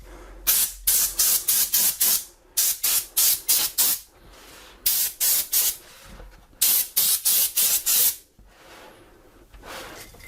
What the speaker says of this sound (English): hence why I got the canned air. I'll spray it anyway